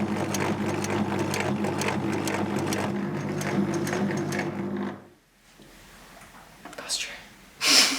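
A sewing machine runs steadily for about five seconds, stitching a binding seam on a jacket made from a blanket, with a rapid rhythmic whirr close by, then stops, leaving faint rustles and breaths.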